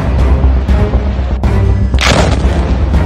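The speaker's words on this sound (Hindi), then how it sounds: "तीसरा धमाका" Explosions in Gaza during the Israel-Hamas war, several heavy booms over continuous low rumbling, with a big bright blast about two-thirds through that sounds close and loud.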